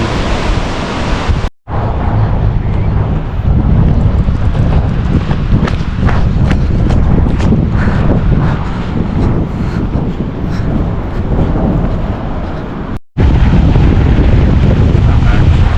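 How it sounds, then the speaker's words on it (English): Steady ocean breeze on a Redwoods coast beach, loud continuous wind buffeting with surf roar beneath, filling the whole stretch apart from two brief dropouts, with no talking. "Nice ocean breeze."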